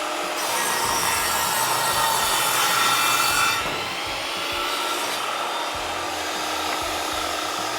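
Saw cutting wood boards to length against a stop block for a shelf build, a loud close rasping cut with a slight dip midway before the blade noise carries on.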